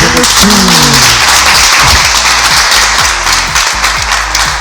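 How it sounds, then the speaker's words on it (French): Applause from a studio audience on a live French radio show, a dense steady wash of many hands clapping that fills the whole stretch at close range, with a brief tonal jingle near the start. "Merci pour les applaudissements, c'est adorable."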